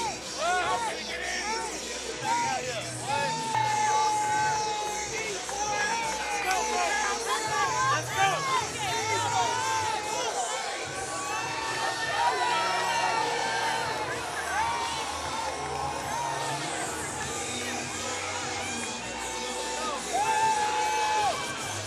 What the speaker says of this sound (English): But this crowd is ready to erupt as he heads up to the cage.